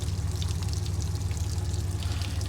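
Water drains steadily out of an RV water heater tank, a continuous close pouring rush with no pauses or speech.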